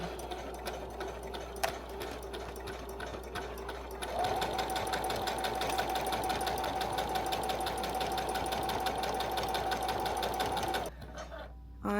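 A sewing machine runs a straight stitch seam, a rapid even mechanical chatter close to the mic that speeds up and grows louder midway, then stops abruptly near the end; no voices.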